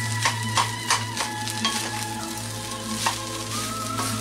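Beef fried rice stir-fried in a wok: a steady hot sizzle with repeated sharp clacks and scrapes as the spatula tosses the rice, close and continuous, with no talking.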